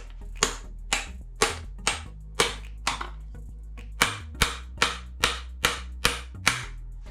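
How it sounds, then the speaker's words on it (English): A hammer taps a star nut down into a bicycle fork steerer tube, striking about thirteen sharp, ringing metallic blows at a steady, near-regular pace, each close and crisp. "So, I'll just take my hammer"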